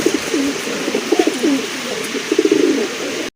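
A pair of large Sirazi pigeons coo in soft, repeated rolling phrases close by, with faint rustling and small knocks around them.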